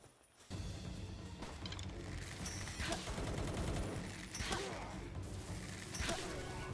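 An enemy gunner in the game Palworld fires a dense, continuous stream of gunfire with rattling mechanical clatter and a few louder cracks, with a voice talking over it.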